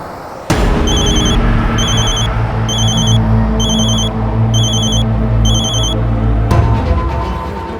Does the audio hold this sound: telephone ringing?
yes